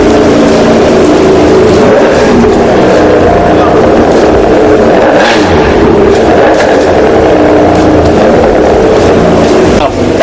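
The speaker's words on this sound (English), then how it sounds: "I'm going to push the accelerator, just listen to that sweet purr." A Ferrari 599 engine runs loud and close as the accelerator is pressed, rumbling steadily with a deep, sustained growl throughout.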